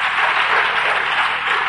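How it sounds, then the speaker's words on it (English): A church congregation claps for themselves, a dense, steady wash of many hands applauding at once, loud and continuous, with no talk over it. "Clap for yourself."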